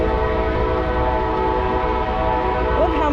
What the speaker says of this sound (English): Look how many trains go by at once.